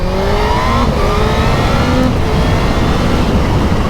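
A motorbike with a quick shifter accelerates hard at wide open throttle, its loud engine note climbing in pitch and dropping briefly at each rapid upshift, with no clutch pauses, steady and close throughout.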